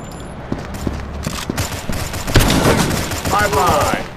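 Gunfire in the mobile game Gang War Mafia, with a dense, loud clatter of overlapping shots and impacts and a voice speaking toward the end.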